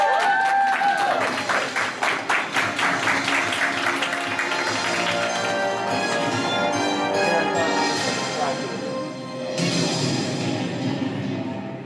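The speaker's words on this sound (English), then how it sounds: "Give her a round of applause, guys." A crowd at an anime convention game show bursts into loud, dense applause mixed with cheering, sustained for about twelve seconds with a brief dip and swell near the end.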